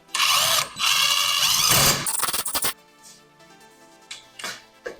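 Rapid ratchet clicks tighten lug nuts on an EG Honda Civic hatchback wheel, two loud close bursts of clicking, then a few quieter scattered clicks and taps.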